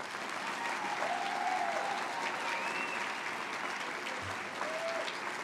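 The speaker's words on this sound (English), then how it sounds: "Let's give them one more round of applause." An audience at a college graduation ceremony claps in a sustained, even round of applause, heard from a distance and fairly quiet, with no talk over it.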